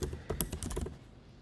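Quick, close clicking of typing on a computer keyboard, a short burst of keystrokes for about a second that then fades into quiet.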